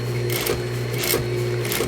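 A sewing machine stitches slipcover fabric for a dining chair, running in a fast, steady mechanical whir with a rhythmic clatter, close and continuous.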